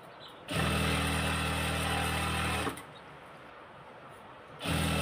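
Sewing machine stitching salwar fabric along the guide, a steady loud motor whir for about two seconds, a pause with quieter background, then the motor starting up again, close by.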